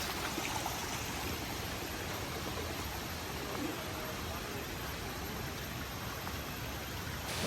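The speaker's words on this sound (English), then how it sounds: "This is my favorite part of the waterfalls." A waterfall near Ubud, Bali pours steadily, its broad rushing roar continuous, close and loud, with no voices.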